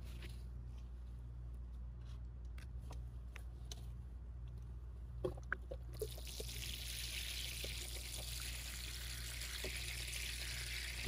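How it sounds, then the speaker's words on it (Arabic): Water is poured onto a newly planted sage seedling in a pot. It starts as faint scattered trickles and drips, then becomes a steady, quiet pour of liquid over soil lasting several seconds. "يتبقى الآن إضافة الماء"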